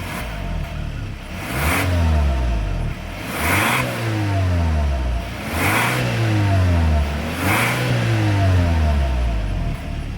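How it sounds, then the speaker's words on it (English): A 2026 Hyundai Santa Fe engine revs through its single exhaust in four distinct rising-and-falling pulls, loud and close, with brief settling between each blip. "As always, here is that exhaust clip."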